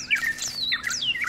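Bright, repeated bird chirps in the video game Mystery of the Ancients, several quick tweeting calls in close succession, clear and fairly near over a quiet background.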